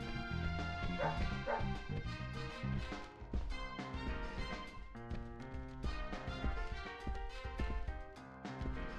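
A dog in the video game Deadly Premonition yips and barks repeatedly over several seconds, a steady string of close, sharp barks with brief pauses and a few whimpering tones mixed in.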